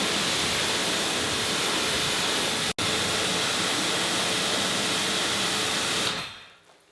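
Pressure washer spraying a car with a 5.0 nozzle during a rinse, a loud steady hissing rush of water that runs continuously, cuts out for an instant, then resumes before fading away at the end.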